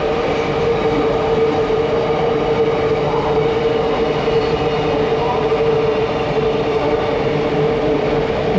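A container freight train rolling along the rails between Mumbai and Ahmedabad, a loud continuous rumble and rattle heard close by, steady with no pauses.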